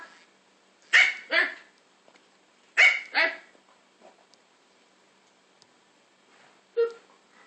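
A young puppy named Maggie lets out short, sharp yips in three separate bursts, each a quick double bark, close by against a quiet indoor background.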